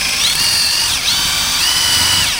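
Power drill boring a 1/4 inch bit into wood for an easel build, a loud continuous high whine whose pitch dips and recovers as the bit bites, with no talk.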